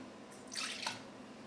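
Bourbon pouring into a ketchup-based maple bourbon rib sauce mixture, a brief soft liquid trickle lasting under half a second, close and fairly quiet.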